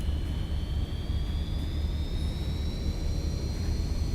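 MD-80 jet engines spooling up for takeoff in the X-Plane flight simulator, a loud steady turbine roar over a deep rumble with a high whine gradually rising in pitch throughout.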